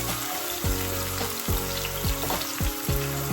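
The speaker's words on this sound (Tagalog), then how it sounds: "Susutay tayo ng garlic and onion sa olive oil." Garlic and onions sauté in olive oil with a loud, constant crackling sizzle, broken every second or so by a spatula stroke that scrapes the pan. Nobody speaks.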